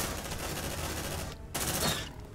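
Shotgun fire in the sci-fi squad game Aliens: Dark Descent, a dense run of loud blasts and chaotic combat noise lasting throughout, with a brief lull before another burst near the end.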